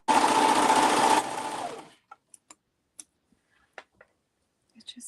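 A sewing machine runs steadily on hoodie fabric for about two seconds, then slows and stops, followed by a few sparse clicks and ticks in near silence.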